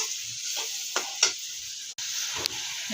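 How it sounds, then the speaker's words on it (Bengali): Sweet pumpkin frying in a pan, giving a steady hiss with occasional louder crackles and pops, close up and with no voices. "মিষ্টি কুমড়া ভাজি"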